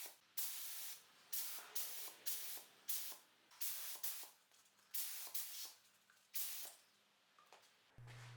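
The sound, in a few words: spray painting a coat onto 3D printed Mustang fluid caps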